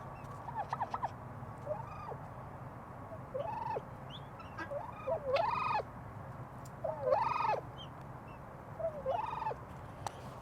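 Several turkeys gobble in short bursts as they get ready to fight, one after another, over a low steady background hum with brief gaps between calls.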